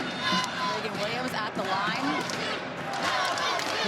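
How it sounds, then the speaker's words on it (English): A basketball arena crowd roars and jeers during a free throw at a Kansas vs. Oklahoma State women's college game. The noise stays loud and steady throughout, with a commentator talking over it. "The crowd is really trying to get in her head right now."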